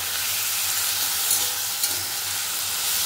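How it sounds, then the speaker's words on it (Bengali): Ivy gourd and potatoes with turmeric and salt being stirred in a pan, a steady soft sizzle with faint scraping of the spoon, close and continuous without talk. "এবার ভালো করে নাড়াচাড়া করে দেবো"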